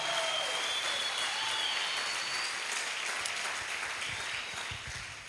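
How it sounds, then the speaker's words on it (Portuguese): A church conference crowd applauds steadily, dense clapping filling the space and slowly tapering off toward the end. "Dê para Jesus uma forte salva de palmas."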